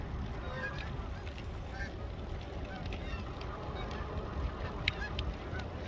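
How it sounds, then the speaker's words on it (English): Geese honk repeatedly at a trail pond, their calls faint and scattered across a steady outdoor background with no talking. "Can you hear the geese?"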